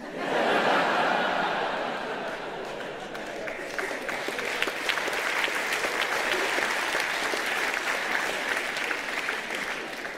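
Audience at a Leon van der Zanden comedy show breaks into loud, sustained applause mixed with laughter, a dense crowd roar that swells at the start, dips slightly, then holds steady for ten seconds.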